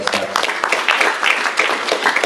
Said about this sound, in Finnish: Eikö tässä olisi pienet aplodin paikat pojille?